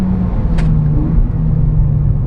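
A Renault Clio R.S. pulls away on a race track, its engine making a loud, steady, close-up drone that holds even for over two seconds, with no one talking.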